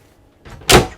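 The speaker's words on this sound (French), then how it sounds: "À moins que ce soit une porte." A wardrobe door in the cabin of a Pershing 8X carbon-fibre yacht opening, a soft rustle and then a short, fairly loud swoosh and click, heard alone.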